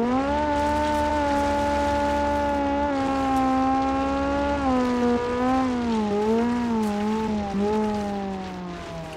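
A rally car's engine in the BeamNG driving game winds up hard, a loud, continuous buzzing whine whose pitch climbs, dips and wavers as it revs, heard alone and close.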